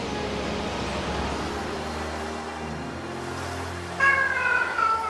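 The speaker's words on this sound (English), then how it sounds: "It's the gurgly meows" A cat lets out a couple of gurgly, drawn-out meows near the end, close and fairly loud over a steady room hum.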